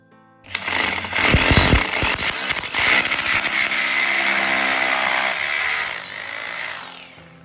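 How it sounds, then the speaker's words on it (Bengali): A power drill whines steadily as it bores into a wall, with rough grinding at the start, then trails off. "তারপর ড্রিল মেশিন দিয়ে হোল করে নেব"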